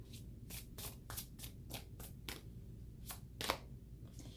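A deck of tarot cards being shuffled by hand: a quick series of soft, papery riffle bursts, roughly a dozen in a loose rhythm, faint and close with no voices.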